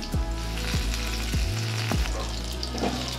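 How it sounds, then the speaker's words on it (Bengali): Green chillies and garlic fry in a wok with a loud, steady sizzle, while repeated scraping strokes of a spatula sound close by throughout. "এরপর আমরা কড়াইতে প্রথমে কাঁচা লঙ্কা দেব, এর মধ্যে রসুন"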